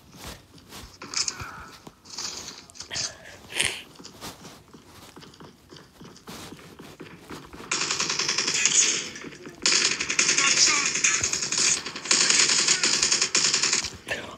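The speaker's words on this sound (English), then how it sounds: "I didn't even know where the gunshots were coming from." Rapid automatic gunfire in the Call of Duty Modern Warfare mobile game, scattered shots at first, then long sustained loud bursts of continuous fire in the second half.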